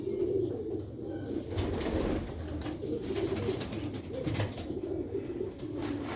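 Sialkoti pigeons with the Ali marking coo steadily among other birds, a low murmuring layer running through the whole stretch alongside scattered chirps, fairly close and continuous.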